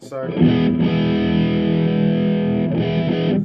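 A distorted electric guitar, a Gibson Kirk Douglas signature SG, sustains a thick, buzzing chord, loud and close, with a brief break before it rings on again.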